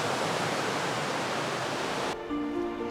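The Cascade Blanche waterfall on Réunion island roars as a steady, loud broadband rush. It cuts off sharply near the end, leaving quieter tonal background.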